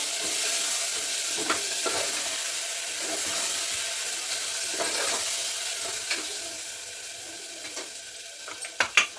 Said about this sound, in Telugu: ఇప్పుడైతే టమాటా ముక్కలు వేసుకుంటున్నా ఈ టమాటా ముక్కలు మంచిగా నూనెలా ఉడికిన తర్వాత అప్పుడు మటన్ వేస్తాను